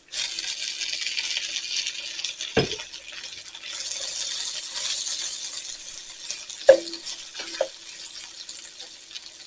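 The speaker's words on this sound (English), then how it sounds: "we're going to add our sausage back in" Cooked sausage being stirred back into a sizzling pan for breakfast stuffed bell peppers, a steady broadband sizzle throughout with a few sharp utensil clinks and scrapes standing out, close and fairly loud with no talk.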